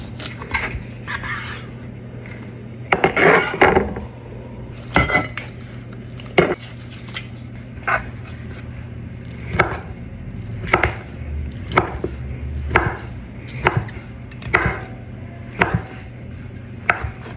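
Crisp, sharp cuts and crunches through crackly roast duck skin on a board, roughly a dozen chops at uneven intervals, close up with a low hum underneath.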